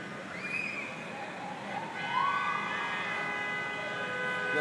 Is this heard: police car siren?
yes